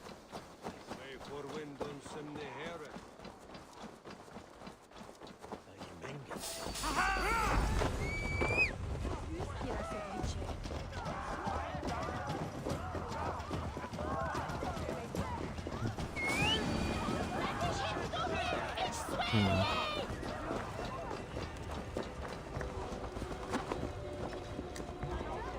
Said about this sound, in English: horses in towns can't run that fast, so I wasn't able to keep up with them